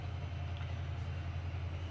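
A printer runs in the background during a model railroad session, giving a steady low rumbling drone with no talk over it.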